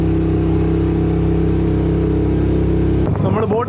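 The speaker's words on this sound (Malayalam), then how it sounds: "നമ്മുടെ എഞ്ചിൻ സ്റ്റാർട്ടായി, വൈബ്രേഷൻ ചെയ്യുന്നുണ്ടാ, വൈബ്രേറ്റ് ചെയ്യുന്നുണ്ടാ." A Suzuki outboard boat engine idles close by with a loud, steady low hum and strong engine harmonics, then cuts off near the end.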